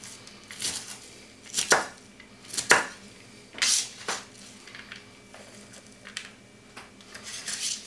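A knife slices through cabbage on a cutting board, sharp crunchy chops arriving in irregular bursts with short pauses between them, close and fairly loud, no voices.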